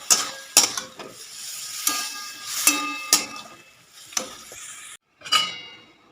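Radish with turmeric and salt is stirred in a wok, a metal spatula scraping and clinking against the pan in quiet, irregular strokes close by.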